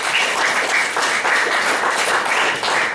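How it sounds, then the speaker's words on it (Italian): Audience applause in a hall welcoming a guest, dense continuous clapping at a steady loud level with slight swells. "Un applauso a Federico"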